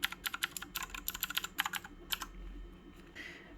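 A Sades 35-key mechanical gaming keypad is typed on up close, with quick irregular bursts of crisp key clicks that thin out into a few isolated taps near the end.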